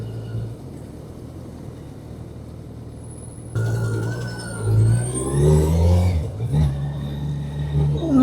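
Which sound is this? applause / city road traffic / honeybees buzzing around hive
city road traffic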